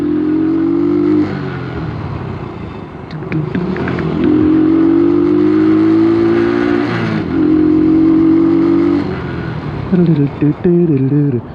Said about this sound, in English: the engine's loud enough that the cars can hear you